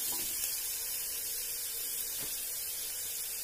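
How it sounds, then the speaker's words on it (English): Chopped watermelon rind frying in a pan for sabzi, a soft steady sizzle with faint scraping as it is stirred, quiet and continuous. "So while this is getting fried and stirred a bit, keep stirring it."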